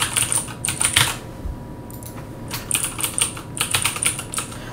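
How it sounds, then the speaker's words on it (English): Quick clattering keystrokes on a computer keyboard, close and clear, in several short bursts separated by brief pauses, with no talking. "I'm going to quickly type in my information."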